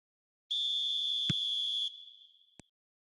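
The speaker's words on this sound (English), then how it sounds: "There's the whistle then to start the second half" A referee's whistle sounds one long, steady, shrill blast to restart a football match for the second half, then fades, with a couple of sharp clicks and no voices.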